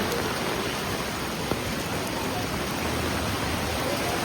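Heavy monsoon rain pours steadily onto a flooded Mumbai street, a loud, dense, unbroken hiss of falling water with faint traffic beneath it.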